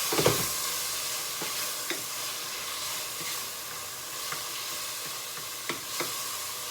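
Steady sizzling and crackling of mushrooms frying in a hot pan, with occasional light clicks and pops, fairly quiet and continuous with no talking.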